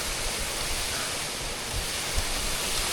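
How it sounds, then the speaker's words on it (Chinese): A waterfall on the Tour du Mont Blanc trail near Courmayeur, Italy, sends up a steady, even hiss of rushing water, soft and continuous with no voices. "我们经过了第一个瀑布"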